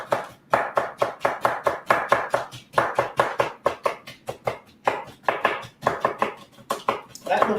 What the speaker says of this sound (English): So here we go. Chopping.